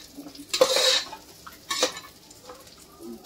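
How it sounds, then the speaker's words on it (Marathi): A spoon scrapes and stirs a prawn and green pea pulao mixture in a cooking pot, with two distinct bursts of metallic scraping and faint sizzling between, close and moderately loud, without talk. "थोडंसं पाणी टाकून आपण हलवूया, नाहीतर जळून जाणार"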